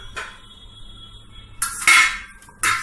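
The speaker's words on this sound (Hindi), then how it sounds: "हर किसी घर में कद्दूकस होता है, तो इससे हम कद्दूकस करेंगे" An onion grated on a kitchen grater, heard as a few short scraping bursts of mixed loudness at close range with quiet gaps between them and no one talking.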